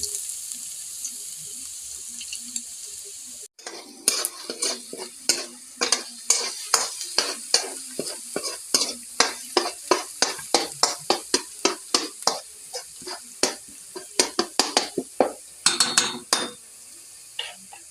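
Garlic sautés in a pan for a Filipino papaitan dish, a steady sizzle broken by rapid, regular scraping strokes of a spatula stirring against the pan, close and fairly loud with no talk.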